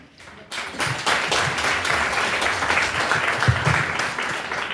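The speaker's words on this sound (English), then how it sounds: "I was wondering when you were going to do that clap." Audience clapping at a comedy chat show, a steady, full round of applause from a live crowd that swells after a brief quiet start and holds evenly throughout, with no talk over it.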